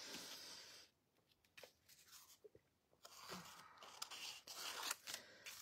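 Scissors snipping through a piece of paper in an art session, close and crisp, with quick bursts of cutting and crunching separated by brief pauses.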